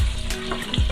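Water poured into a hot pan of lightly browned spices for a potato and cabbage curry hisses and sizzles sharply, close and loud, in a short burst.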